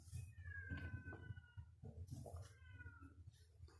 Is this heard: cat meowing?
yes